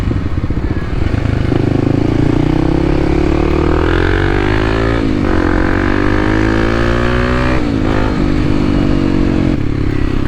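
Kawasaki KLX300 dual-sport motorcycle with a Yoshimura exhaust riding mountain roads, its engine loud and close, revving up and down through gear changes with a steady droning exhaust note throughout.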